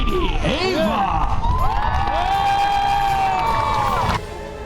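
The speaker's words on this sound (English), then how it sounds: "how about a nice round of applause for on this end, Lady Ava!" Loud crowd at a medieval faire in Black Creek Village cheering with whoops and high shouts from adults and children, a steady roar of voices that drops off sharply near the end.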